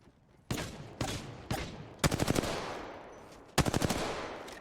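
Gunfire in Apex Legends, a ranked solo-queue match as Wraith: several single sharp shots spaced about half a second apart, then two rapid automatic bursts with ringing decay, fairly loud and close, no talk.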